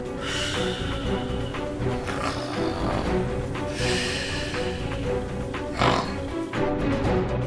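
A sleeping woman snores rhythmically, with rough, rattling breaths repeating every few seconds over a low background hum, heard close up during a sleep disorder examination.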